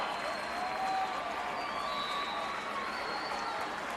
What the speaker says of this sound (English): Both crowds getting a little loud here on the serve attempt.